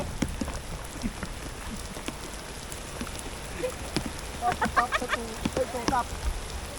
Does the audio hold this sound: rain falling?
yes